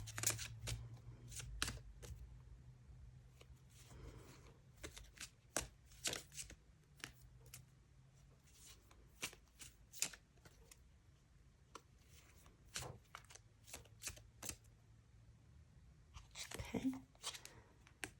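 A deck of tarot cards is shuffled in quiet, intermittent bursts of soft riffling and slapping, close by, with faint low background hum and occasional soft murmured speech.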